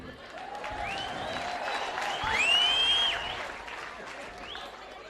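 Church audience in Nairobi applauding and cheering, a sustained wash of clapping with whistles rising to a peak midway and then easing, with voices mixed in.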